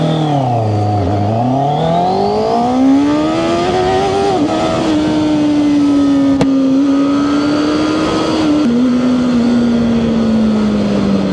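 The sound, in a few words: QJMOTOR SRK600RS motorcycle engine accelerating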